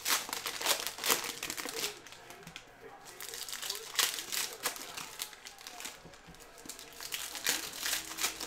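A Panini Mosaic cello card pack being torn open, with repeated crinkling and tearing of the plastic wrapper close up, coming in uneven bursts throughout.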